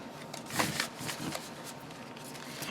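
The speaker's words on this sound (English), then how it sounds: "old-fashioned table shuffle again" A deck of tarot cards is table-shuffled in a few soft, quick riffling bursts, faint and close, with no talking.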